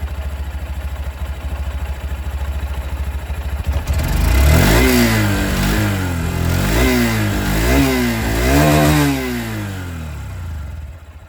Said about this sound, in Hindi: दोनों ही बाइक की जो एग्जॉस्ट साउंड है ये मैं आप लोगों को सुनाना चाहूँगा। और स्टार्ट करेंगे यहाँ पर शाइन 125 के साथ।